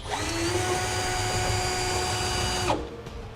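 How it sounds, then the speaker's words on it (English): A power drill with a half-inch bit whines steadily at a constant pitch for nearly three seconds, fairly close, marking holes for a fifth wheel hitch on a 2010 Chevrolet Silverado, then cuts off abruptly. "I'm going to take a 1/2 inch drill bit. I want to use that to mark the center of the holes"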